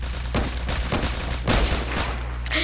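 Gunfire from the Roblox shooter Phantom Forces pops out in a series of sharp, loud bangs spaced irregularly over a rumbling in-game background, with one heavier shot standing out near the middle.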